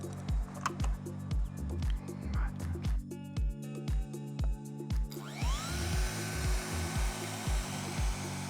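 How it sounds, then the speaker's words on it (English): A router fitted with a flush trim bit cuts a groove into timber panels in a carpentry workshop, whining in a run of regular, evenly spaced pulses, close and fairly loud. "with a flush trim router bit to cut the timber groove as cleanly as possible into the top and bottom panels"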